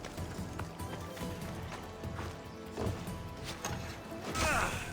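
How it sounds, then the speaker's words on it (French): Galloping horse hooves in Assassin's Creed, steady clip-clop footfalls running close by over continuous game background noise, ending with a louder crash or whinny-like burst. "Mais c'est du beau cheval ça, madame! Il monte sur les tentes en plus!"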